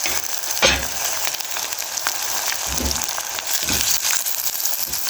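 Carrot and tomato sizzling in a pot with onion for one-pot rice and beans, a steady crackling hiss with a few soft clinks and stirring knocks.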